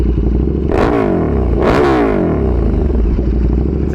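KTM 1290 Super Duke R with an Austin Racing exhaust, downpipe and tune, idling loud and close with two sharp revs that rise and fall, no voices.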